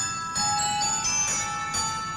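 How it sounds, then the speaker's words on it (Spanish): Bright bells ring with a sustained shimmering tone in a Japanese Christmas television commercial for pizza, steady and moderately loud with a few soft swells. "Ok, las campanas."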